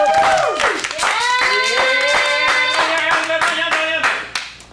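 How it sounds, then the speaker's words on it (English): An audience at an adult improv comedy showcase claps loudly for the performers, with sharp rhythmic claps mixed with whooping, cheering voices that fade out toward the end. "let's get a round of applause"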